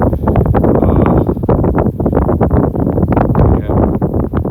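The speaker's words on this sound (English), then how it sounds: "A little windy all of a sudden" Strong gusty wind buffets the microphone continuously on a newly sheeted roof, a loud rumbling roar with uneven surges throughout.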